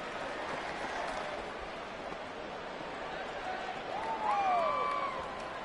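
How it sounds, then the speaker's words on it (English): A stadium crowd roars steadily in an EA Sports football video game, a broad continuous rumble of noise that swells slightly toward the end, with faint whistle-like tones. "this crowd trying to force a false start here"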